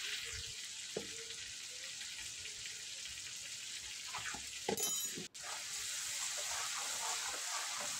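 Spice paste with turmeric, chili powder, salt and sugar cooking down in a pan, a soft continuous sizzle with occasional spoon scrapes and knocks while being stirred, close and fairly quiet.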